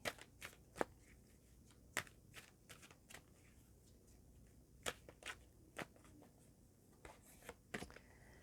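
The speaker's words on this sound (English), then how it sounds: "I'm just going to start shuffling the cards" Tarot cards being shuffled in quick bursts of crisp riffling and snapping, close to the microphone, with short pauses between rounds and no talking.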